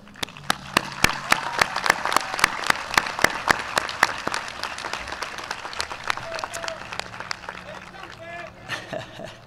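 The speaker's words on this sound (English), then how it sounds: "I'd like you to give a round of applause for the people in the audience that are your heroes" Graduates at a Glendale Community College commencement applaud the people in the audience, sharp distinct claps in a loose rhythm over crowd murmur, with voices chattering and brief calls rising near the end.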